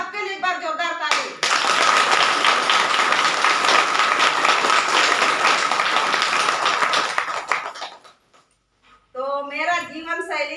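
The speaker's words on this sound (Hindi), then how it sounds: "एक बार जोरदार ताली" Loud, enthusiastic crowd clapping at a DXN branch meeting in Mandar, rising abruptly and holding steady for several seconds before cutting off; voices talk briefly before and after.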